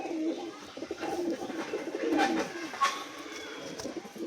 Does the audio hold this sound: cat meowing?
no